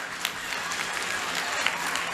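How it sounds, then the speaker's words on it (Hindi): An audience at a school annual function claps for the staff and teachers, a continuous dense wash of many hands at moderate distance, fairly even throughout with no voices standing out. "इनके लिए तो हमारी ज़ोरदार तालियां बनती ही हैं"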